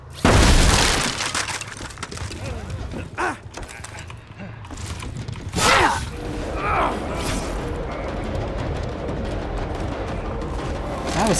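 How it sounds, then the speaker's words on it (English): Firecrackers go off in the Dead by Daylight video game, several sharp bursts and crackling pops scattered over a busy, noisy in-game background. "Nice firecrackers."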